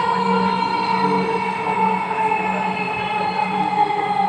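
A metro train rides along the rails, a steady loud rumble with sustained tonal whine from the motors and car interior, continuous with no speech.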